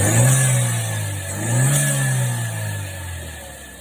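A 2013 Chevy Cruze 1.4-liter turbo engine revs twice in quick succession, rising and falling close by over a steady idle, with no talking.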